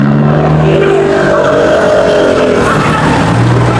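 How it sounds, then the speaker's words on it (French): Traffic at a Paris crossroads, with several cars passing close by in a steady, loud wash of engine and tire noise that swells and fades without a break. "il y a plein de voitures qui passent devant moi"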